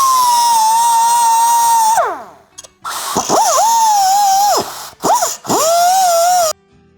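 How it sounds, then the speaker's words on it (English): A die grinder cuts through the lower control arm shock mounts of a '66 Chevelle, its close, high whine running in several bursts that wind down and restart between cuts. "take a die grinder and cut these in half, two different ways"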